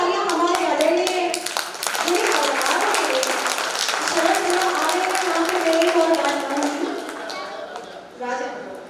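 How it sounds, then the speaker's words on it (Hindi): Audience at a CRPF men's club folk art performance in Prayagraj claps loudly and steadily, dense applause with scattered voices and someone speaking over it, fading near the end. "इतनी सारी तालियां अगर अकेले मेरे लिए थी तो थोड़ी कम थी"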